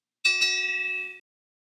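A single bright bell ding rings out clearly and alone, with a clean metallic tone that sustains for about a second before cutting off.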